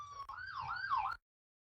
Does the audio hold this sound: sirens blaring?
yes